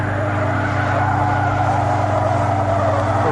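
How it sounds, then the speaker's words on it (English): A car driven at its limit in a deliberate oversteer slide on a racing circuit, tires squealing continuously over steady engine roar, loud and close throughout. "We're right on the edge, you can hear the tires squealing."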